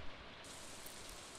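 Steady rain falling in the Stardew Valley video game, a constant, even hiss of drops across the whole moment with no voices.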